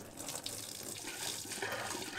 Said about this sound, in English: Got a pot of water. We're gonna test the drain out.